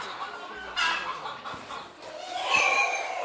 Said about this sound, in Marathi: हा आपला सेटअप आहे प्युअर गावठीचा गावठी कोंबड्यांचा